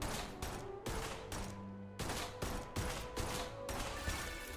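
Gunfire in the video game Duet Night Abyss, a series of loud, sharp sustained bursts separated by brief gaps, with no speech over the shooting.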